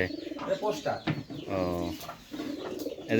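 Giribaz pigeons coo in soft, repeated rolling calls at close range, with a person talking over them.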